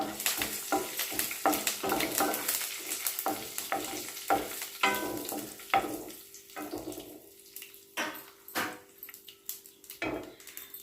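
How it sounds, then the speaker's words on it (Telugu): Dried chillies, mustard seeds, cumin and curry leaves sputter in hot oil while a spoon scrapes and stirs the pan in repeated close strokes, the crackle thinning between bursts. "ఆయిల్లో ఎండుమిర్చి, ఆవాలు, జీలకర్ర, కరివేపాకు వేసుకొని అంతా కలుపుకోవాలి."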